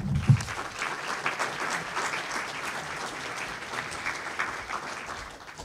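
A seated crowd at a community event on food and farming gives a warm round of applause, steady and fairly even throughout, with a brief louder burst near the start and no talk over it.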